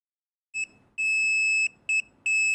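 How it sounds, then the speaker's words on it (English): A multimeter's continuity-test beep, held close to a microphone during work on an electric guitar: a short chirp, then a steady high tone lasting most of a second, then two more beeps, one brief, one sustained, loud and clear over faint background noise. "I'm gonna put the multimeter next to the microphone so you guys hear a beep"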